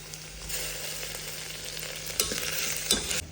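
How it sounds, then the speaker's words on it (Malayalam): Onion, two green chillies and sliced tomato sautéing in a pan for a vegetable curry, a close continuous sizzle with spatula scrapes and stirring knocks near the end, no voices. "അപ്പോൾ തക്കാളി നല്ലോണം വഴറ്റി കിട്ടിയിട്ടുണ്ട്"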